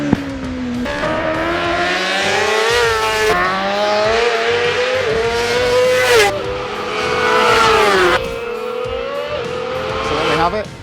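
Honda superbike race motorcycles on a track, engines revving and rising in pitch through repeated gear changes, loud and continuous, with someone talking over them.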